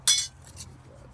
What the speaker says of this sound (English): Then I lock the stove into place.